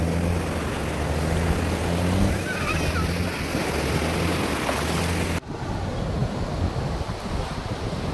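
Sea waves at a beach in Krabi, Thailand, a continuous rushing wash of surf mixed with heavy wind buffeting the microphone, loud and steady throughout, with a brief cut partway through.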